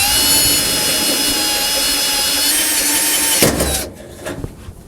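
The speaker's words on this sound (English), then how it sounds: "you'll want to use a drill bit that's not going to take these holes any bigger than they already might be, but still going to be able to drill out these rivets" A power drill bores out rivets on a truck toolbox lid latch with a 3/16 inch bit, a loud continuous whine that stops abruptly near the end, leaving quiet clicks.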